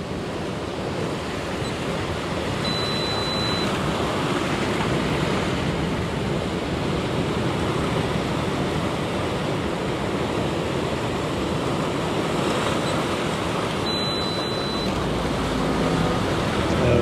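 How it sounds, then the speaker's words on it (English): Large ocean waves pounding in on a shore, a loud continuous roar of surf and white water with wind buffeting the microphone, no voices. "these waves, as they come pounding in."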